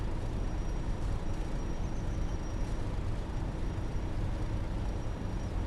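Train brakes dragging in Train Sim World 2, a continuous rough rumbling rush with a thin steady high-pitched whine running through it, loud and unbroken without speech.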